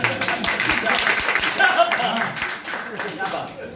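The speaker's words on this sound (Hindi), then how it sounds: "जोरदार तालियां सर।" An audience at a comedy poetry recital claps in a steady, moderately loud round of applause, with a voice speaking over the clapping.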